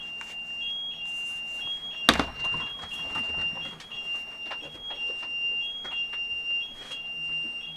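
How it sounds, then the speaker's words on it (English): An alarm in theHunter: Call of the Wild sounds as a high, intermittent electronic beeping in short repeated pulses over a noisy outdoor background, with one sharp knock partway through. "You have an alarm activation"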